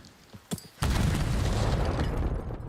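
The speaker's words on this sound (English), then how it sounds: "nade hits onto Slasher, but still alive and well" A grenade blast in Call of Duty: a few faint clicks and a pop, then a sudden loud, close boom whose broad roar holds for about two seconds before tapering off.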